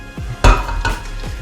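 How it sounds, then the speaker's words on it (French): Tomatoes tipped onto onions in a cooking pan with a loud metallic clatter and a soft sizzle, followed by lighter scraping knocks, close up with no talk. "on met nos tomates avec nos oignons"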